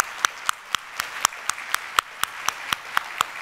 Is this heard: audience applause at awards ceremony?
yes